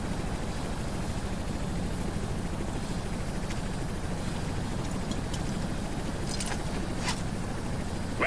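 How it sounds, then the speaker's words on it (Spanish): A helicopter arriving in the video game Ghost Recon Future Soldier, a loud, constant rotor and engine roar filling the scene with a few faint clanks over it and no talking. "Enviamos helicópteros a recogeros y dar punto de encuentro"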